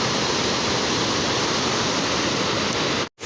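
Rushing river in the Neelum valley of Kashmir, a loud, constant roar of turbulent water close by, unbroken until a brief dropout right at the end.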